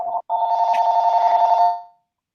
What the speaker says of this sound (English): This guy's so busy he's getting phone calls right in the middle of his interview.